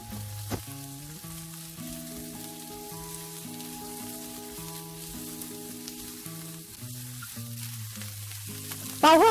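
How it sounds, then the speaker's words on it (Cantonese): Sliced onions stir-fry in a wok with a little oil, reused after searing beef, giving a soft, steady sizzle that runs throughout beneath louder background music. "我哋爆一爆嗰啲洋葱"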